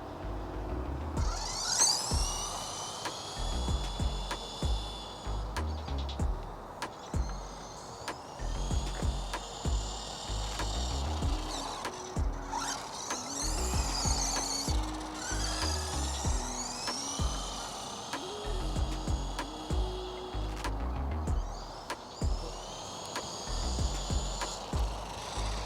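A Wltoys RC buggy runs flat out during a speed test, its electric motor whining in repeated rising and falling bursts over a steady rumble of wheels on the ground.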